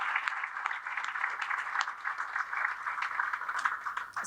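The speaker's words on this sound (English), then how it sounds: "I think that's one of those applause breaks" A room of guests at a veterans' breakfast at The Flying Bridge in Falmouth gives steady, moderately quiet applause, many hands clapping together for several seconds with no voices over it.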